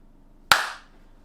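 A single sharp hand clap rings out alone in a quiet room, close and crisp with a short fading tail, made to sync sound at the start of a podcast recording.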